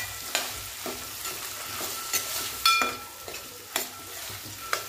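A mix frying in oil in a pan, for fritters made with green pea pods and fresh pigeon peas, sizzles at a moderate level. Sharp scraping stirs repeat every half second or so over it, with no talk.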